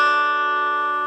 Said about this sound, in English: So the chord's going to sound like this.